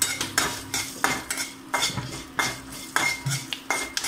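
A spoon scrapes and clinks against a bowl while mixing lemon rice, giving quick repeated metallic taps and scrapes in an uneven rhythm, close and fairly loud with no talking.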